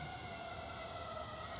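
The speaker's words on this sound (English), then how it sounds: "That's the third siren of the day." A steady emergency siren wails outdoors at a distance, a faint, sustained tone held through the whole moment with no talking over it.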